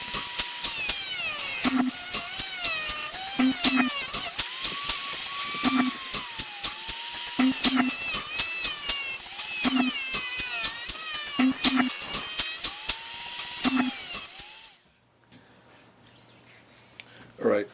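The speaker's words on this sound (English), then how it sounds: "just using the Dremel to cut slits all along" A Dremel rotary tool cuts slits along a knife handle in repeated short bursts, its high whine rising and dropping with each pass, close up, then falling silent near the end.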